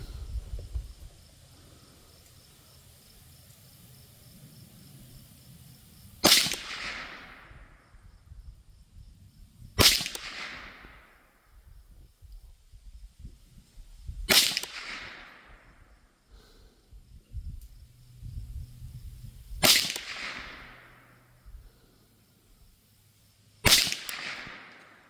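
A Derya TM22 .22 LR rifle fires six sharp, separate shots a few seconds apart at an outdoor range, each crack trailing off into a short echo, with quiet handling noise between.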